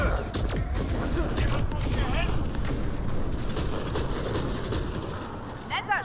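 Rapid bursts of sci-fi gunfire and impacts in the combat video game Mass Effect Andromeda, dense continuous shots layered over game background noise with no pauses, ending in a few scattered cracks.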